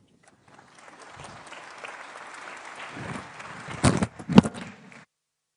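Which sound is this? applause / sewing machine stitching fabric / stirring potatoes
applause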